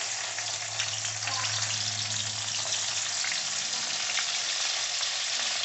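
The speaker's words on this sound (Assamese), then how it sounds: "এতিয়া সেই একেখিনি তেলতে মই দিলোঁ কেইটামান পাঁচফোৰণ। তাৰপিছত দি দিলোঁ পিঁয়াজ" Onion and panch phoron spices fry in hot oil for a fish curry with thekera tenga, giving a steady, close crackling sizzle that holds evenly throughout with no voices.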